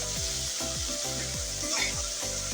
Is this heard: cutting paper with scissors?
no